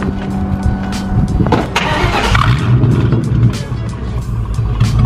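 Ford Mustang GT engine starting up loud and close outside the car, a burst of cranking and roar settling into a steady deep rumble.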